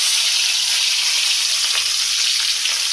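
Capsicum sizzles in oil already used for frying fish, a loud, bright, continuous crackle heard up close.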